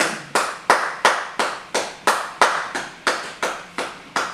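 A church congregation claps in unison for the Lord, a loud, even rhythm of sharp claps at roughly three per second, close and with no voices over it.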